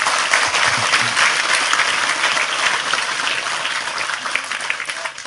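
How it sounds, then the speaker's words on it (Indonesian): An audience at a lively public debate breaks into loud, sustained applause, dense clapping filling the room evenly from start to finish without voices. "Sekali lagi tepuk tangan lebih keras untuk Tejo."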